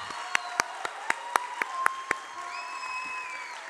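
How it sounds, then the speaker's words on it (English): Church congregation applauds a pastor during a kids' worship event, with a few distinct sharp claps in a rough rhythm over a low crowd murmur, then the clapping stops and a faint tonal voice lingers. "Come on, give a round of applause for your pastor."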